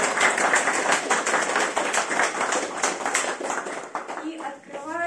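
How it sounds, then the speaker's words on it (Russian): A literary evening audience marking a writer's 109th anniversary applauds in sustained, dense clapping from the start, with a voice beginning to speak near the end. "Давайте аплодисментами поприветствуем его"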